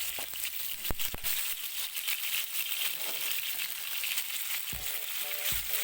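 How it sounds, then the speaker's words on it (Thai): Pork being stir-fried in a little oil for a Thai dish with garlic and choy sum, giving a steady close sizzle and crackle throughout, with a few sharp clacks of a utensil against the pan. "ส่วนเนื้อหมูเราก็มารวนนะครับ รวนแบบนี้นะครับ รวนกับน้ำมันนิดๆนะครับ"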